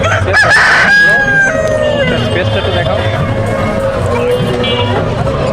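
A rooster crows loudly once near the start at a busy outdoor pigeon market in Khulna, Bangladesh, then the call fades into steady crowd chatter and market hubbub.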